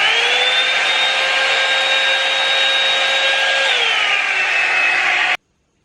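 A Revlon Perfectionist 2-in-1 hair dryer runs loud and close with a steady whining whoosh and a constant motor tone that shifts in pitch partway through, then cuts off abruptly near the end, with no voices.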